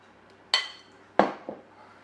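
A metal spoon clinks against a bowl while spooning meat pie filling onto puff pastry: two sharp, close clinks about half a second apart, then a softer tap, with no talking.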